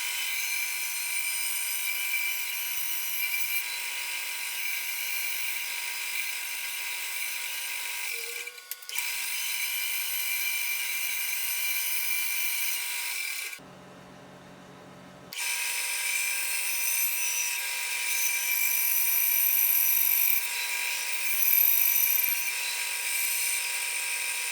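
A whining power tool cuts a 2x4 piece of wood into shape for a combination crosscut and box joint jig, a steady high-pitched drone with a brief cut-off midway before resuming, loud and close.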